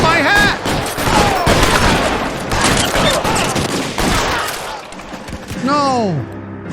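Video game gunfire in a police shootout scene, a dense loud fusillade of rapid overlapping shots and bursts with voices shouting among them, ending in a whistling ricochet-like tone.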